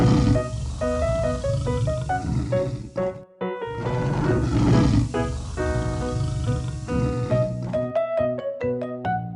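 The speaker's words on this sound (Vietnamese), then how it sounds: "The jaguar." A jaguar roars in repeated rumbling bursts over a steady bed of background music, with a brief drop near the middle and sharper plucked notes toward the end.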